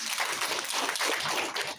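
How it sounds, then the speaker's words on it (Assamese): Audience applause, a brief burst of many hands clapping at moderate distance, dense and steady for a couple of seconds. "এটা জোৰদাৰ হাত চাপৰি"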